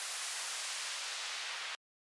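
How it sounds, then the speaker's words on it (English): Reversed textured white-noise riser used as a fall effect in a melodic house track: a dense, bright hiss swelling steadily for under two seconds, then cutting off abruptly into silence with a tiny blip at the end. "very simple, like textured white noise riser that's been reversed."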